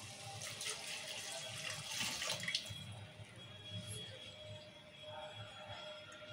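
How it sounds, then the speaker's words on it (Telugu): Water pours from a tap or vessel into a cooking pot holding soaked rice and oil-fried ingredients. A close, steady splashing rush is strongest in the first seconds, then settles into a softer trickle. "ఇప్పుడు వాటర్ పోసుకుందాం"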